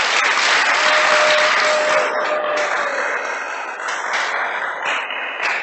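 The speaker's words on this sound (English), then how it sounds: "can you give a big round of applause to all the organizers of tonight's" Loud, sustained applause from a festival audience at a Govardhan Puja celebration, thanking the organizers. Dense clapping fills the whole stretch and thins slightly toward the end.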